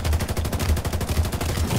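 Automatic turret gunfire in a video game: rapid, evenly spaced shots rattle on continuously at close range, loud and unbroken throughout.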